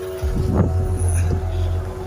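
A motorbike rides along a forest road by Salgini, a small 20-house village, its engine a steady close drone mixed with wind noise and a brief louder swell as it passes.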